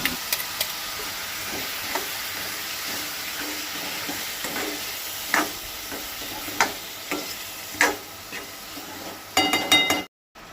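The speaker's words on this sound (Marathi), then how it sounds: "आमाडे बरे मातशे चाळून घेवपाक जाय 2 मिनटां" Hog plums (ambade) being sautéed in a pan for Goan ambade sasav: a steady close sizzle with scattered spoon scrapes and light metallic clinks, no voices.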